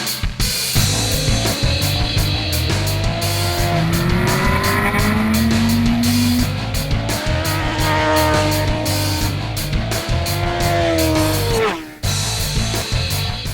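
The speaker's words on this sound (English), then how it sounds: "for road racers seeking the quickest way to get around racetracks worldwide, it offers the 2012 CBR 1000RR" A 2012 Honda CBR1000RR superbike fitted with a Yoshimura exhaust, a Dynojet Power Commander 5 and a quick shifter, howling loudly on a racetrack, with rising engine pitch climbing through repeated upshifts and continuous high-rpm drone throughout.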